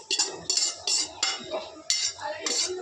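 Puffed rice (mandakki) being tossed and mixed in a box, with several sharp scraping clatters in quick bursts close by.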